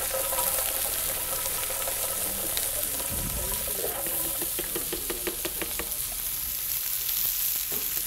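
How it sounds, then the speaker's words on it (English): Chopped onions sauté in a big pot for tuna casserole, a steady soft sizzle with scattered light knocks and stirring clatter near the middle, fairly close and quiet. "Little sauteed onions in there."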